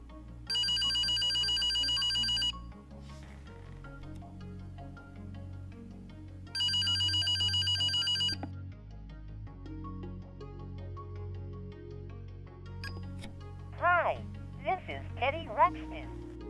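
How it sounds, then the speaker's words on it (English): The Teddy Ruxpin electronic toy telephone rings with two loud, steady electronic bursts about six seconds apart, each lasting roughly two seconds. A voice talks over quiet background music, and a few chirpy tones follow near the end. "the phone will wait 15 seconds before ringing"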